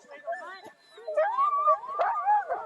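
Excited sled dogs on a snowy, cold day howl and yip together in a wavering, rising chorus, close and fairly loud, with overlapping voices sliding up and down over a few seconds.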